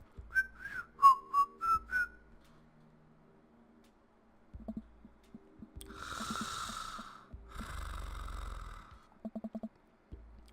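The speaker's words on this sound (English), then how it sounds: "Whistle while you work." A short whistled tune of five quick rising notes opens the moment in the game Dream Daddy, followed by quiet snoring-like breaths, rustling and soft thumps in an otherwise hushed scene.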